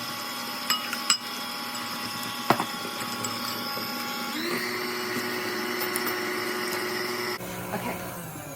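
Electric mixer or blender steadily whirring through challah dough ingredients, with a few clunks and knocks early on, then a constant motor drone that shifts pitch partway through.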